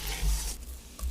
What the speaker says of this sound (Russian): Мешаем энергично